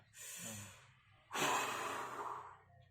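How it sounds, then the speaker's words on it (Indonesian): A patient during a spirometry test takes one long, forceful breath in, then after a brief pause blows out hard in a longer, louder exhalation. Both breaths are close and alone, with no talking. "Mas tarik napas sekencang-kencangnya, lalu buang sekencang-kencangnya"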